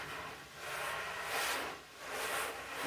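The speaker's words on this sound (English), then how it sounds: "we're going to just add in a hi-hat real gently" Soft, hissy brushed swishes on a hi-hat played gently with drum brushes, rising and falling in a slow, even rhythm, quiet and airy.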